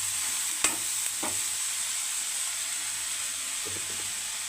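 Anchovies and grated coconut for thoran stir-fried in a pan, a steady close sizzle and hiss with a few sharp scrapes of the spoon, no talking.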